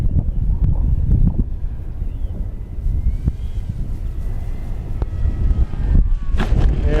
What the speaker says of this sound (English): You get above those trees, that wind starts beating it up.